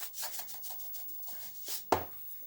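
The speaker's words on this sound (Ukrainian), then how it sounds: "Далі їх просто в довільній дозі посолю і перемішаю." Salted eggplant pieces are tossed and mixed by hand in a bowl, giving soft repeated rubbing and squelching strokes close up, ending in a sharper knock near the finish, with no voices.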